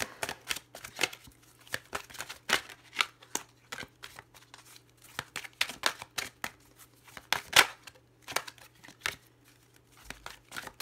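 Tarot cards are shuffled by hand in a quiet room, a series of crisp riffling and slapping bursts in an irregular rhythm, close and clear over a low steady hum.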